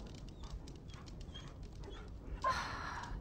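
A dog whimpers and whines softly in the Dragon Age video game, with thin high cries over a quiet background and a brighter rustling burst near the end.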